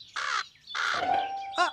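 Crow-like birds in a children's cartoon give three harsh, clear caws in quick succession, the middle one drawn out, with no talking over them.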